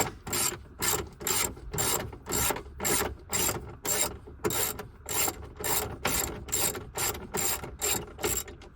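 A hand ratchet clicks out a 10 millimeter bolt on a 2009 Ford Escape Hybrid, with steady rapid bursts of ratcheting, each short sweep crisp and close, repeating evenly with no talk.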